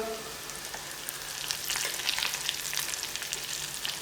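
Homemade chili oil bubbling and crackling in a pan, a dense close hiss with sharp pops growing livelier as it is given a quick stir; no talking.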